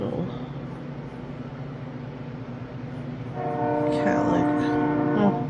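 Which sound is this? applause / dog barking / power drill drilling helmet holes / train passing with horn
train passing with horn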